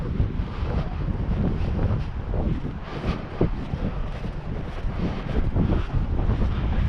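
Cold wind blows through woods, buffeting the microphone in a loud, continuous rumbling rush with gusty swells.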